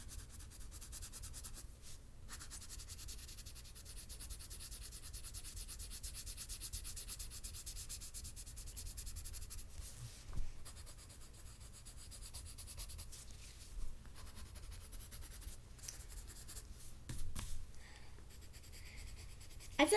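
Pencil drawing and shading on paper, a close, quiet, continuous scratchy rubbing that goes on steadily with a few brief pauses and no speech.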